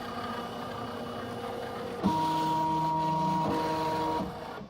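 A Ricoma EM1010 embroidery machine traces a design outline inside a magnetic hoop, steady mechanical whirring that shifts midway into a louder droning motor tone with sustained pitched hums, then settles back.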